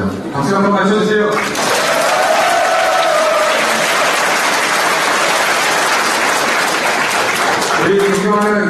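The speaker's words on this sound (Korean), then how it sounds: "박수 한번 맞춰주세요" Loud, sustained applause from a party convention crowd in Busan fills several seconds, with a voice speaking briefly before it begins and again as it fades.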